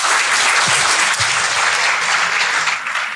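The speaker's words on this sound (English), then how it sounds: "Big round of applause to her." Loud, steady applause from an audience at a women and climate change event in Malaysia, a dense wash of clapping sustained throughout with no voices over it.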